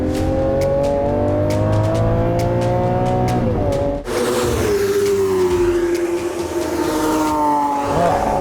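A powerful 740-horsepower Lamborghini engine roars as it accelerates on a wet circuit, its pitch climbing steadily, dropping sharply at a quick gear shift, then climbing again. Loud and close.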